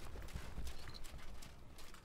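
Horse hooves clip-clopping in the video game Stronghold Legends: a steady run of soft, rhythmic low thuds that continues without a break at moderate loudness.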